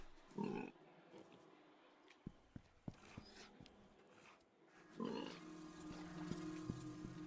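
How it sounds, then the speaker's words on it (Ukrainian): Pig grunting in the video game Fera: The Sundered Tribes, with faint low grunts and short snorts among quiet game ambience, a few sharp clicks, and a louder grunt near the start and again toward the end. "звук такий ніби свиня десь тут прям"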